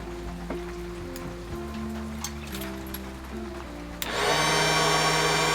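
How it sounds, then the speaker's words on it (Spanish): A small electric fan that starts a car's wood gasifier whirs on abruptly partway through, a loud steady blowing roar that replaces the lower humming and clatter heard beforehand. "para arrancar el gasificador, tengo un pequeño ventilador que se prende de acá"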